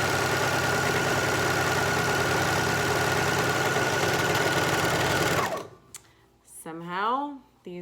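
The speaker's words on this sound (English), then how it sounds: "I'm serging these two together. My serger is a Janome 8002D" Janome 8002D serger stitching two pieces of fabric together for a qaspeq skirt, a loud, fast, steady mechanical whir up close that stops abruptly, followed by brief talking.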